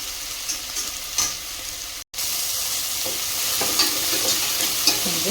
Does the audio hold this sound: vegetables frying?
yes